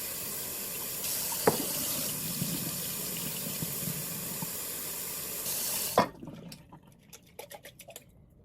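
Tap water runs steadily to rinse radish and broccoli sprout seeds in a container, then shuts off, leaving small drips and splashes.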